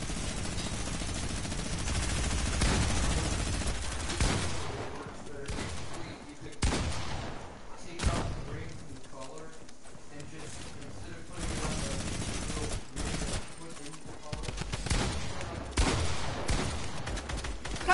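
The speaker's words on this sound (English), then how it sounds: "Just spam this freaking drum gun." Drum gun in a video game firing long, relentless bursts of rapid shots, loud and dense for nearly the whole stretch with only brief gaps, while players talk over it.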